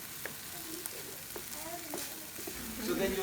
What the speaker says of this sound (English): So then you'll saute all these for about 5 minutes together